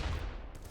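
Rapid gunfire aimed at the Class C Guardian boss in the video game Environmental Station Alpha, a dense, continuous volley of shots throughout the short moment.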